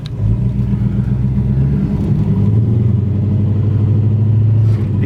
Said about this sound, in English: The exhaust has a nice note to it.